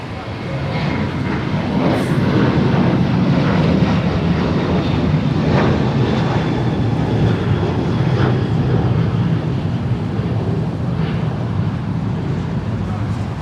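An airliner taking off from runway 25 right at Los Angeles International Airport builds a broad, steady roar that holds throughout, with faint radio chatter and voices layered over it.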